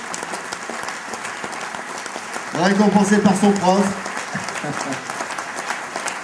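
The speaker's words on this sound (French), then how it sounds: "on peut encore l'applaudir" Audience applause for the Mayenne sportsman of the year at a trophy ceremony, steady clapping throughout with a voice speaking over it partway through.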